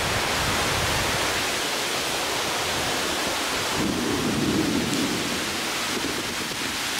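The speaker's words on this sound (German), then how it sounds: "da zieht jetzt so eine Regenwand auf uns zu" Heavy rain pours down in a thunderstorm as a wall of rain approaches near Forest City, a broadband steady roar filling the scene with a low rumble swelling midway, no voices.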